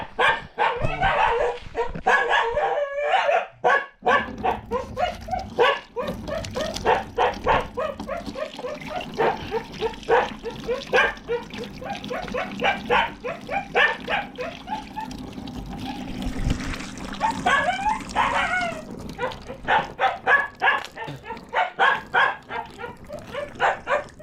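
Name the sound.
dog barking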